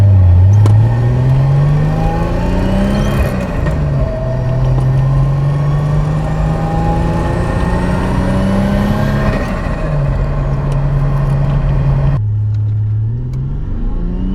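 A car drives along the road with a steady, loud engine drone heard from inside, rising and falling slightly as it accelerates and shifts, with no talking.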